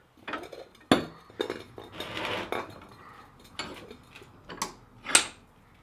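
An empty propane cylinder being clamped into a metal vise, giving a series of metallic clanks, knocks and clinks at irregular intervals, close and moderately loud, with no talking.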